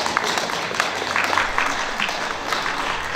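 Audience applause welcoming a performer at a Korean art song healing concert in Daegu, a steady wash of many hands clapping throughout, with a faint low hum underneath.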